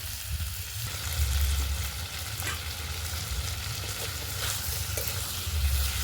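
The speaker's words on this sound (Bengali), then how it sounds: "ভালো করে বেশ খানিকক্ষণ কষিয়ে নেব।" Vegetables sautéed for a while in a pan for goat fat curry, a continuous loud sizzle with occasional soft stirring scrapes.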